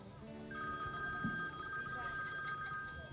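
Telephone bell ringing with a steady shrill electronic ring starting after a brief pause, with people talking faintly underneath.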